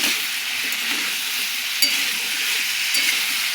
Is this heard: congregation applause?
no